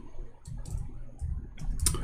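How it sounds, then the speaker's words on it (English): Someone types on a computer keyboard in a few quiet bursts of soft clicks with short pauses between them, close by and otherwise near silent. "Sorry, my keyboard sometimes is not functioning."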